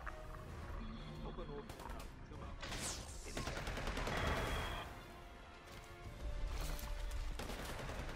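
Bursts of rapid gunfire in the video game Predator Hunting Grounds, loud volleys that swell and ease with a brief lull midway, mixed with game effects and a growling creature.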